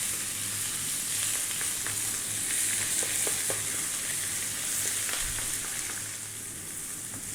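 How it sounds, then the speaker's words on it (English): Chopped onion frying in a pan on high heat for a potato eggplant curry, a steady dense hiss and sizzle with occasional soft clinks of stirring, close and continuous with no talking. "Then we're going to go in with our onion. We're on a high heat, by the way, as you may hear."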